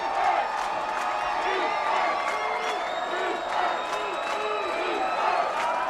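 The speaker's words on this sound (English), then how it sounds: "Crowd is shaking the stadium below us right now." Dense, sustained stadium crowd cheering and roaring at a high school football game between Central Catholic and Jesuit, a steady wall of voices with whoops and scattered clapping throughout.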